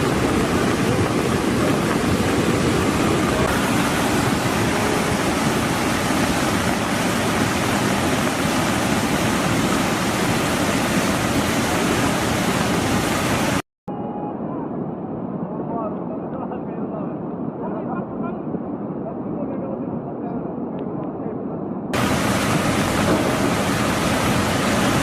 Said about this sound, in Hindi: पानी घुस रहा है उधर से